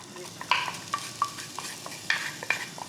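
Minced onion frying in oil in a pan, with soft sizzling and a few brief stirring scrapes and clinks scattered through the stretch, close and fairly quiet.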